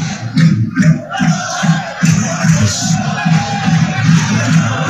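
Football crowd at a Wrexham match chanting and clapping in a steady rhythmic beat, a loud massed pulse repeating roughly every half second, with murmuring voices underneath.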